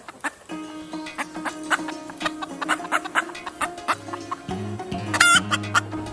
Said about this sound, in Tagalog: Meron doon na uh, small farm na chicken.